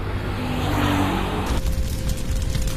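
A motorcycle with two riders pulls away from a village, its engine a steady, loud drone that shifts in tone partway through as it leaves, with no voices.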